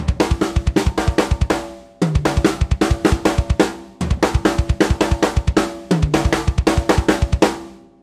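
Seven stroke roll drum fills in 4/4 repeat four times, each a burst of quick even strokes ending on accented hits with a low tom, played loud and close on a drum kit with no voices.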